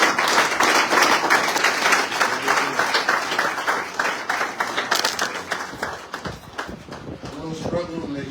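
A conference crowd in Lagos claps continuously for several seconds, a dense patter that fades slightly toward the end while a voice speaks over it.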